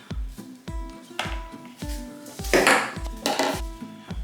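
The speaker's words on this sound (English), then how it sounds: "I'm just going to scrape the stick blender" Repeated clanks and scrapes of a metal stick blender against a container of cold process soap batter, with ringing pings and a few rougher scraping bursts, close and fairly loud.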